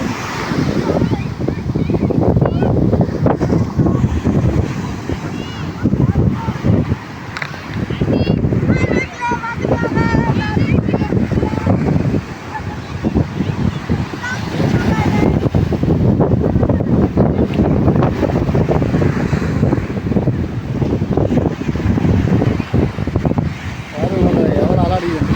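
Sea waves crash and surge under strong gusting wind on a beach, loud and close with rumbling buffeting bursts, while people talk intermittently over the roar.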